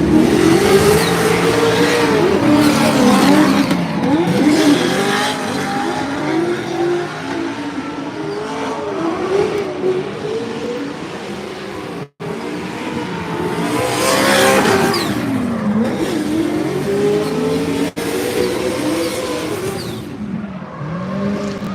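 Drift car at Formula Drift New Jersey warmups, the engine revving hard and rising and falling in pitch through repeated runs with bursts of tire squeal, loud and continuous for about twenty seconds.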